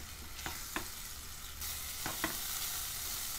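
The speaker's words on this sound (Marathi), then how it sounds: "टोमॅटोला तेल सुटेपर्यंत परतून घेऊया." Tomato paste being sautéed in oil for paneer butter masala, a soft steady sizzle with a few light spoon scrapes against the pan, fairly quiet and with no voices.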